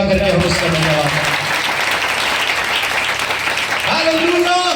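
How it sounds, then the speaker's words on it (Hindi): A church congregation claps loudly and continuously, a dense roar of applause that runs unbroken from start to finish, with voices and a singing or speaking voice faintly mixed in at the edges. "उसको जोरदार ताली बजा करके हम उसका धन्यवाद करें"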